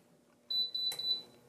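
A kitchen appliance's sensitive touchpad gives a high electronic beep when start is pressed, a short pulsing tone repeated a few times after a brief quiet opening.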